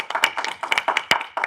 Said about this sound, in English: Ah, that's applause.